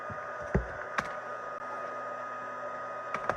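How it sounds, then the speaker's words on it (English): Steady broadband whooshing of an embossing heat tool blowing continuously, with a few faint clicks and taps over the top. "and I'm going to let my heat tool heat up."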